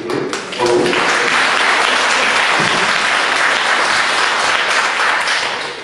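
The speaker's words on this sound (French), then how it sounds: "je voudrais qu'on l'applaudisse parce qu'elle a eu quand même le courage de venir" An audience at a public Grand Débat town meeting in Criteuil-la-Magdeleine applauds a member of parliament. The clapping rises sharply after a brief quiet start and stays as a thick, even roar until it eases slightly at the end.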